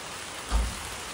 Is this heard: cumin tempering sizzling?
no